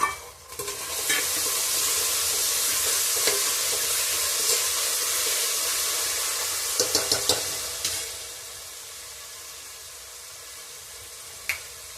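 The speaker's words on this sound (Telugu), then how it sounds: "ఇప్పుడు నెక్స్ట్ టమాటో వేసుకోవాలి." Tomatoes frying in a pan for egg biryani, a steady close hissing sizzle with occasional clicks and spoon taps, fading softer toward the end.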